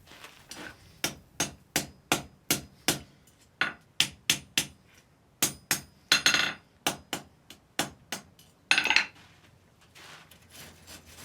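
Loud, evenly spaced hammer blows, about twenty in all, ring on a steel anvil while a chain link is forge welded, with a few slightly uneven strikes near the end and no talking.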